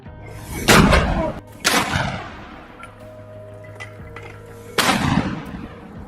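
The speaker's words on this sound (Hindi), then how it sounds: "यहां अल कासिम ने इजरायली सैनिकों के एक जमावड़े पर 120 mm के मोर्टार गोले से फायर किए" Firing of 120 mm mortar shells during combat in Gaza, three distant heavy booms a second or more apart, each followed by a rolling echo, over a faint background hum.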